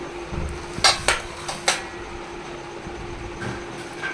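Biryani is served onto a plate with a few sharp clinks and scrapes of a spoon against dishware, clustered early and then fading to quieter taps.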